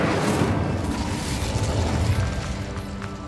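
An Incendio fire spell bursts in Hogwarts Legacy, a loud, dense roaring whoosh of flame that sustains for about three seconds before easing slightly, with no talking.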